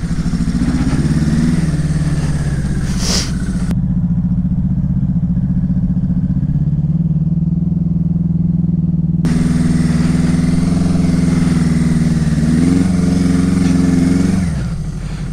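Suzuki GS850 scrambler motorcycle riding through snow, a loud, close, continuous engine drone that holds steady, briefly eases off and rises again, then cuts back near the end, with no talking.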